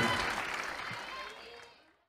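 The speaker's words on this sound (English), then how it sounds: "you hear the crowd" A crowd at a bouldering competition applauds and cheers in a short burst of clapping that fades over about two seconds, with voices mixed in.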